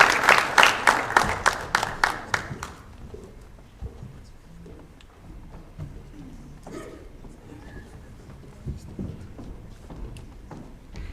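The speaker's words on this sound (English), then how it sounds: "Let's give Bashir Ellis a big round of applause." An audience at a sports awards ceremony gives a loud burst of clapping that fades after about three seconds, followed by quieter room noise and scattered voices.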